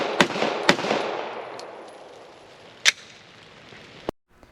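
An HK Mark 23 pistol firing at an outdoor range, with several sharp, loud cracks spaced irregularly, two close together at the start, then one after a pause and a final shot, each trailing off into a fading echo.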